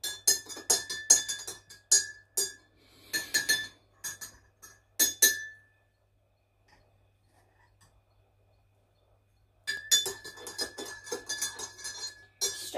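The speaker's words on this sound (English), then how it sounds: "Stirring the sugar." A spoon clinks repeatedly against a cup while stirring sugar into tea, quick bright taps in two bursts separated by a silent pause, close and fairly soft.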